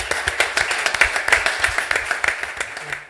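An audience applauds at an exhibition event, with dense, steady clapping that holds for a few seconds at close range and then starts to thin out toward the end.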